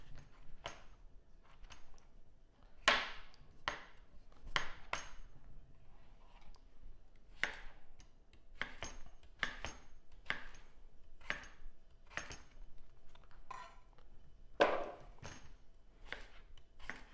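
A knife chops vegetables on a cutting board during vegan meal prep for a green rice bowl, with crisp, close chops in uneven bursts and short pauses, and no voices.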